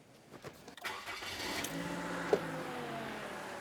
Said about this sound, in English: So now I'm gonna start the engine.